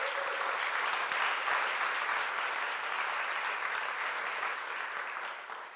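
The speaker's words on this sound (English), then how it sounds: "Let's give them a round of applause." A large audience applauds at Tacoma's State of the City address, a broad, steady roar of clapping that holds strong throughout and eases slightly toward the end, with no talking over it.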